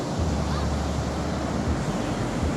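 Atlantic Ocean surf at high tide rolls onto the shore in a loud, continuous wash, with wind buffeting the microphone throughout.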